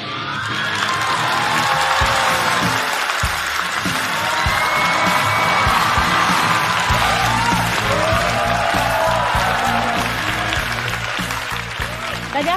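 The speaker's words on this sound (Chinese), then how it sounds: "掌声有请倪虹洁。" Sustained audience applause with scattered cheers and whoops at a Chinese stand-up comedy show as a comedian is welcomed onto the stage, loud and steady throughout with no speech over it.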